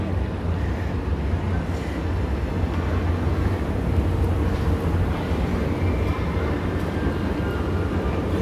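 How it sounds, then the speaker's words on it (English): A Walt Disney World monorail at Magic Kingdom pulls out of the station, heard as a low steady rumble and drone with a continuous noisy wash over it. "There's a monorail."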